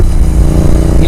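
A tuned Royal Enfield GT 650 motorcycle engine rumbles loud and close, a deep, throbbing exhaust note holding steady through the brief burst.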